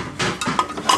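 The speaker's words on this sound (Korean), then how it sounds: "오늘 설거지가 뭔가 고난이도가 예상되는 것 같아요" Dishes and cutlery clatter during washing up at a guesthouse kitchen in Jeju, with a few close, sharp knocks and clinks over running background noise.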